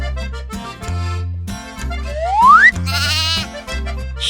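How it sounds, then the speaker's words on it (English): A sheep bleats in a short wavering call amid upbeat cartoon music with a rising slide whistle, the bleat fairly loud and near, no voices. "Sheep."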